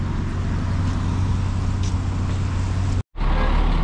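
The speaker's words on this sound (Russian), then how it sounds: "Видите, какая пробка." A heavy traffic jam on flooded streets in Kostanay with traffic lights out, heard as a dense, continuous roar of idling and creeping vehicles, loud and close, with a brief dropout near the end.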